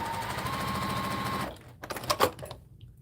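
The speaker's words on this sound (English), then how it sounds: "Going to make a scrappy quilt with a serger." A serger sewing machine stitching scrappy quilt fabric with a steady rapid mechanical whir for about a second and a half, then stopping and leaving a few soft handling clicks and rustles.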